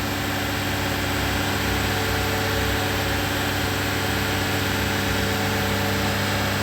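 A car engine runs steadily at higher revs after a jump start, with a constant, even drone and no pauses, close by.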